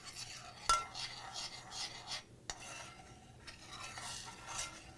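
A spoon stirs curried coconut lentils in a pot, giving soft repeated scraping and rubbing strokes with an occasional sharper clink against the side, quiet and close with no voices.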